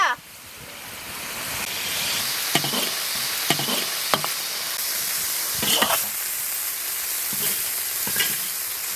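Minced pork with small potatoes and green and red bird's-eye chilies stir-fries in a wok, giving a steady close sizzle with scattered scrape and clank accents from the spatula.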